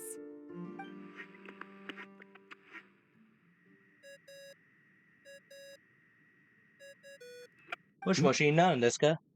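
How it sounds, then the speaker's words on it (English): A phone ringing tone in the Genshin Impact video game chimes in short, evenly paired electronic beeps under a faint sustained tone, after scattered game sounds and before a voice starts speaking. "I really hate that ringing tone"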